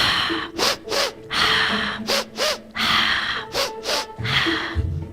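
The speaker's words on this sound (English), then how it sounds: "we're going to breathe in through our nose with a sniff, and we're going to breathe out through our mouths with a sigh" Rapid guided breathing exercise at a summit session: repeated sharp nasal sniffs in followed by audible sighing exhales through the mouth, several quick cycles in a steady rhythm, close and clear with no talk.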